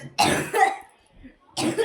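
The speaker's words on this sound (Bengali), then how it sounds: "এত কাশি" A person coughing indoors at night, two harsh, close bursts of coughing separated by a short pause with a faint sound between them.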